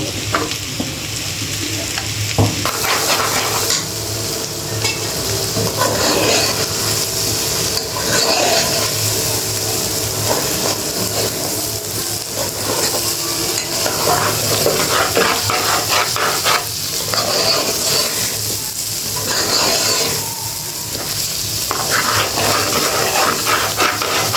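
Potatoes and lentils go into a hot pan for khichuri, answered by a loud, continuous sizzle and hiss that persists under repeated stirring and scraping, close and steady.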